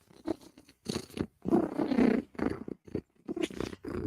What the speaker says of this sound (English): if by chance Cat is purring, Cat is a happy, happy girl